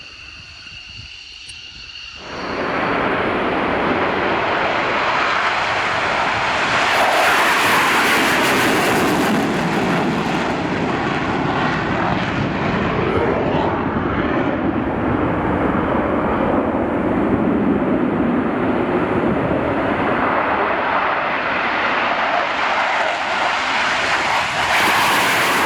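Military jets launch and pass with afterburner on at an air base during the Air Defender 23 exercise. A loud, sustained roar builds quickly after a quiet start and then holds a continuous rumbling thunder until the end.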